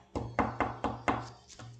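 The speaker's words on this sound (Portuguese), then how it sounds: "Chapeuzinho Vermelho logo chegou à casa da vovó e bateu na porta." Knocking on a wooden door in a children's telling of Little Red Riding Hood: six sharp, fairly close raps in an uneven rhythm over a low background hum, with no talk.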